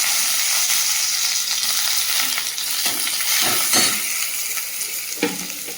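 Dried chilies, chopped onion and garlic frying in a wok, giving a loud, steady sizzle with scraping stirs and occasional sharper crackles throughout, no voices.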